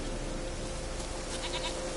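A goat bleats in The Witcher 3: Wild Hunt, a wavering, nasal call that runs through the short moment amid steady game background noise.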